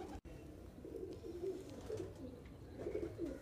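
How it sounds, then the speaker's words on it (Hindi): Madrasi pigeons cooing in repeated soft, low rolling phrases, fairly close and gentle against a quiet background with no talking. "ये तो भाई फुलसरे कबूतर हैं"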